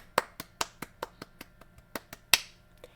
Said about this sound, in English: And as he's clapping in his chair.